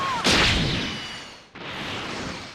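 In Dragon Ball Xenoverse 2, an explosive energy attack bursts with a sharp blast that decays into a roar, then a second blast follows about a second later, both loud and close.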